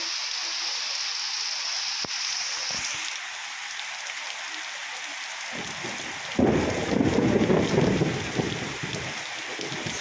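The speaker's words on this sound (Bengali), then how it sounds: "এভাবে প্রচণ্ড পরিমাণে বৃষ্টি হচ্ছে" Heavy rain falls around Berhampore as a steady downpour, with a low thunder rumble building midway before the rain swells into a louder roar.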